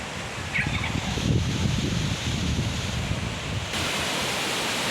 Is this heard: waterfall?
yes